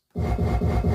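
A kick drum built from the Elden Ring video game death sound comes in suddenly and sustains as a low, buzzing, rhythmically pulsing tone for under a second, alone.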